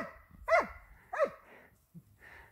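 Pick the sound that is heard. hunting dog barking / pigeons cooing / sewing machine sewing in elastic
hunting dog barking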